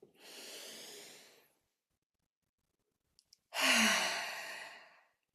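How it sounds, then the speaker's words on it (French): Two slow, deep breaths during a guided breathing exercise, each a long airy exhale sound close to the microphone, separated by a quiet pause. "on va inspirer ensemble. On expire."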